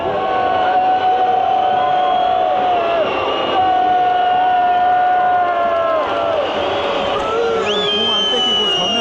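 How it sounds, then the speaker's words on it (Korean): Stadium crowd at a Mexico World Cup football match in Guadalajara roars steadily throughout, a dense sustained mass of voices with swelling jeers and whistles, loud and continuous. "야유가 쏟아지고 있습니다"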